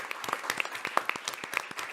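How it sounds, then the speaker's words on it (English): Scattered applause from an audience at an accelerator demo day, individual sharp claps clearly audible in an uneven rhythm, fairly faint and distant. "I really want to give another round of applause to these 5 young ladies that stuck it through"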